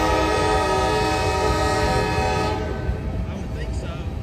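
A freight train with distributed power locomotives rolls past close by, a loud steady rumble with a sustained horn-like tone that fades after a few seconds.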